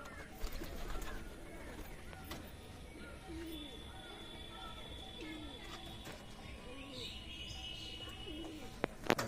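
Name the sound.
pigeons cooing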